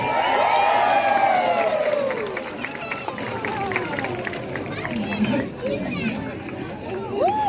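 An audience at a sea lion show in a safari park cheers and calls out in a loose, shifting crowd noise. A presenter speaks over it with a high whistle-like tone near the start.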